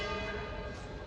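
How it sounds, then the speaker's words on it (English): Church bells ring out over a street in Spain, a dense, continuous wash of overlapping bell tones with steady ringing and no pauses across the short stretch. "there's church bells as always here in Spain."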